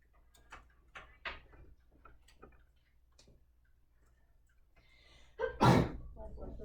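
A single loud, close sneeze bursts out near the end, after quieter stretches of faint talking and small ticking sounds.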